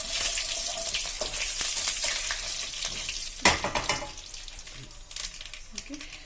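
Curry leaves, mustard seeds and jeera sizzle and crackle in hot oil, a loud continuous frying hiss with sharp pops and a spatter burst midway, close by, with a voice talking over it.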